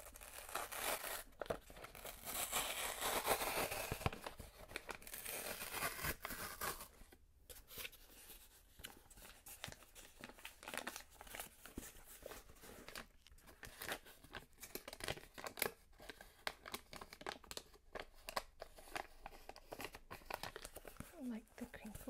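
Packaging from an unboxed beauty box is peeled and crinkled up close, with soft crackling and rustling, denser at first and then in scattered handling bursts, while a quiet voice talks throughout.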